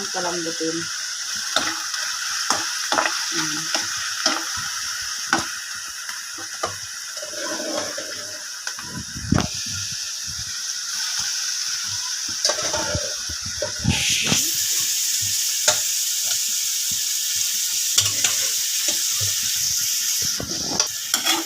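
Beef and sliced bitter gourd sautéing in a pan, a steady bright sizzle broken by frequent clattering scrapes and stirs of a spatula, growing louder and hissier partway through, with faint background voices.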